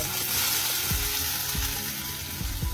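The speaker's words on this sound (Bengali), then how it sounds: "ভেজে নেব, অল্প তেল, বেশি না।" A mixture sizzles steadily in a little oil in a pan, a dense, close crackling hiss with a few soft stirring scrapes underneath.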